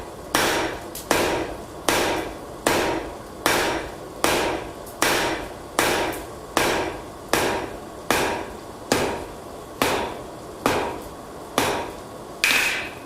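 Steady hammer blows ring on hot metal at an anvil, about a dozen evenly spaced loud strikes with short ringing decay between them and no talking.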